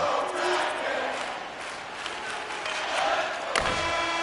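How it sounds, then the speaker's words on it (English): Arena crowd in an NHL 25 hockey game late in a tied regulation period, a roaring, cheering mass of fans with occasional thuds and slams, steady and loud with a sharp hit near the end. "You can feel the energy in this crowd."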